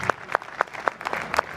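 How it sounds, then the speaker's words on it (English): Applause for contest champions at a SOLIDWORKS Model Mania event: a few sparse, evenly spaced handclaps, quiet and brief, with little crowd noise behind them. "Another big round of applause for our champions."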